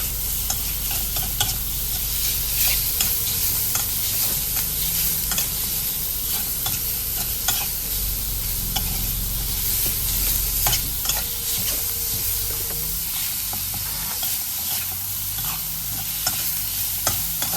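Minced pork is stir-fried in a pan, with a loud continuous sizzle and constant scraping and clinking of the spatula, steady and close throughout with no talking.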